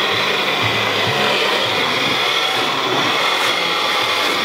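A blender whirs steadily as onions are pureed into kimchi sauce, a continuous loud grinding roar with no pauses throughout.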